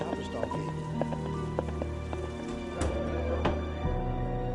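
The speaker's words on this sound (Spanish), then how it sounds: "Un hombre en su caballo se detuvo en un bar llamado Tavistock." A horse's hooves clip-clopping at a slow walk as a sound effect, set over steady rain patter with sporadic louder knocks.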